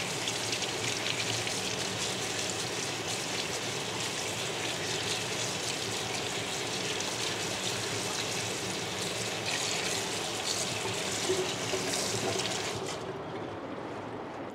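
Freshly picked spinach washed in water, giving a steady close splashing and trickling rush that runs unbroken for most of the stretch before easing off at the end.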